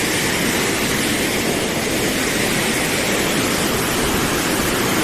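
Bor Hill waterfall near Dawki in the East Khasi Hills of Meghalaya pours down with a loud, dense, unbroken roar of falling water, steady throughout and with no voices.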